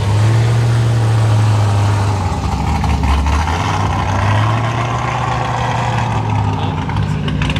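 A cammed Chevrolet Camaro at a cars and coffee meet rumbles loudly and close, its deep lumpy idle rising in a couple of revs before settling, with crowd noise faintly underneath.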